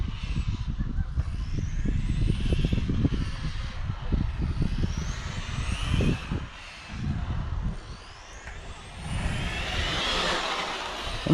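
Tamiya TA04 Pro RC car with a 5.5-turn 6000kv brushless motor on 2S, driving on a track with its rear tyres sliding, giving a continuous buzzing whine with surging bursts, fairly near and loud, with no talk.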